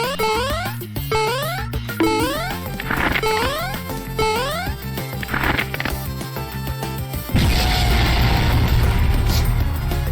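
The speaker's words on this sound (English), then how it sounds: "We got our crazy explosion when you die" A cartoonish explosion sounds on dying in a Roblox knockoff Mario game, a loud sudden noisy boom that breaks in after a bouncy, chiptune-like melody with rising tones and stays loud and rumbling to the end.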